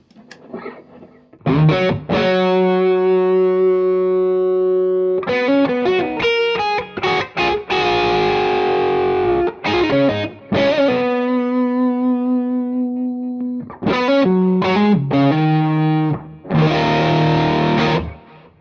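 Heavily overdriven electric guitar played through more than one amp plays sustained, distorted chords and ringing notes, loud and thick with a wide, washing echo between changes.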